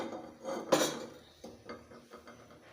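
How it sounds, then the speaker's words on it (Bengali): A metal tawa griddle is set down on a stove with one sharp clank, and a few quieter metallic knocks and scrapes follow close by in an otherwise quiet kitchen. "চলো, একটা তাওয়া দিয়ে দিচ্ছি।"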